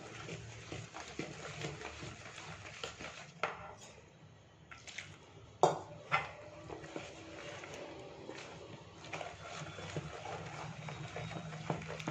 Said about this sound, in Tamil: கரண்டிலே நல்லா கரைச்சிடலாம் மாவை